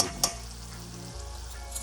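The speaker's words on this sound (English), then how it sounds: "we're just gonna let that simmer all together." Beef pepper steak stir fry simmers in a pan after cornstarch is added, giving a steady close sizzle with a brief clink or scrape near the start.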